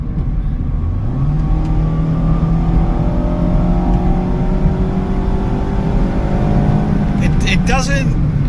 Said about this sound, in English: This engine does not really like revving.